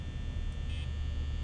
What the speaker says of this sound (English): So like as long as Foxy's humming,